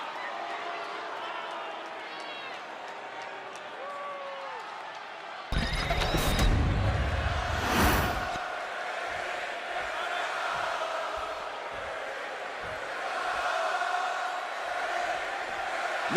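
A video-game wrestling arena crowd roars and cheers steadily for Rey Mysterio's entrance, with a loud burst of entrance noise partway through and a commentator's voice running over the crowd.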